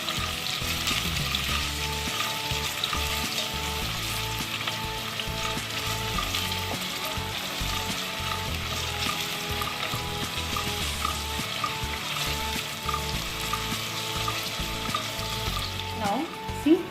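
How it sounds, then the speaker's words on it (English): Onion sautés in hot oil with a continuous, even sizzle and crackle, and occasional soft stirring noises sit close by. "Once the oil is heat up, now time to add our remaining onion to this and saute till it's golden brown."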